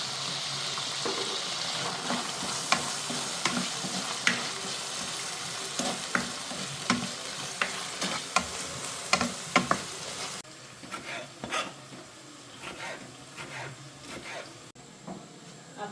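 A spoonful of butter added to a hot pan of frying onion for butter chicken gives a loud, dense sizzle with rhythmic stirring clatter, then the hiss drops noticeably quieter while the scraping continues.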